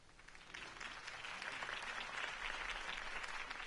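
A crowd applauding, dense clapping that builds quickly and holds steady, heard at a distance with no talking.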